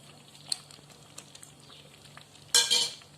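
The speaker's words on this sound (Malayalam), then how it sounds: "എന്നിട്ട് നന്നായി ഇളക്കി കൊടുക്കാം." Rava kesari with cashews and raisins is stirred in a pan, with faint scraping taps and soft sizzling, then a louder burst of sizzle and scraping near the end.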